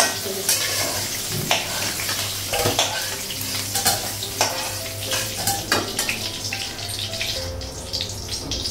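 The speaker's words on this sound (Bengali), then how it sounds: "ডিমটা ভাজা হয়ে গেছে।" An egg frying in a pan in a Bengali home kitchen crackles and sizzles, broken by sharp spattering pops and stirring clinks over a steady low hum.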